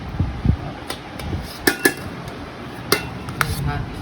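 Metal or ceramic plates being set down and handled for serving rice make a few scattered clinks and knocks at close range over a quiet room background.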